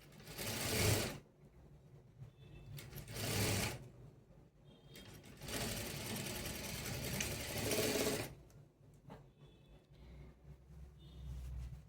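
An electric sewing machine stitches the side seam of a three-dart blouse in three loud, close bursts of rapid mechanical whirring, separated by quiet pauses with faint clicks.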